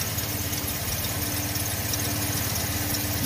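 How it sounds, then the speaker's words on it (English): A car engine idles steadily and close by, a continuous low hum with a faint whine and even vibration throughout. "All right, so I got the car running."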